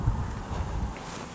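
Wind blows through an outdoor vegetable garden, a loud, continuous rush and rumble pressing against the microphone for a brief stretch, with no voices.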